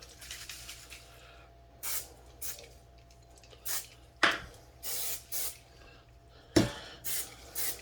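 Aerosol spray can blasting cleaner onto a rifle in several sharp hissing bursts of varying length, fairly close, with quiet gaps between and no talking.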